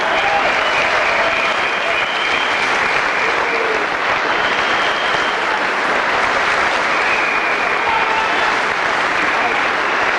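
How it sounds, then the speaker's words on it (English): A boxing crowd in Nottingham applauds steadily after a Commonwealth welterweight title fight, a dense wash of clapping that stays loud and constant, with a commentator's voice running over it. "A big hand from the sporting Nottingham crowd."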